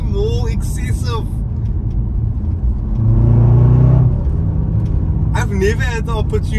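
Engine of a JLR SVR SUV with a 5-litre supercharged engine, a deep rumbling idle swelling into a loud rev that surges and falls away over a few seconds, with someone speaking before and after.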